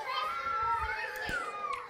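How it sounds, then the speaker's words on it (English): Children shrieking and playing in a living room, faint and in the background behind a steady tonal bed, with one brief louder cry and scattered high voices throughout. "You might hear some screaming in the background, and those are my kids just raising hell in the living room."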